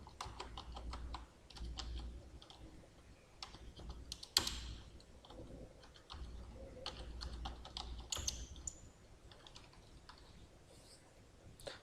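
Typing C++ code on a computer keyboard, quiet close key clicks in irregular bursts and short runs with brief pauses, no talking.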